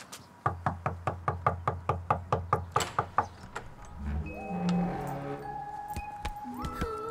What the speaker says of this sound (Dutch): Ik zal gewoon nog een keer kloppen.